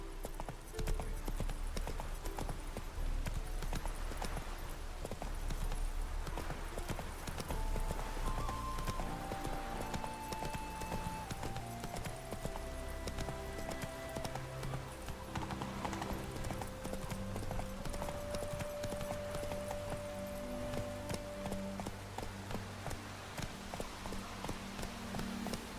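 Roach, a horse in The Witcher 3: Wild Hunt, gallops with rapid clip-clop hoofbeats that run steadily throughout, layered under sustained game music tones, with no one talking.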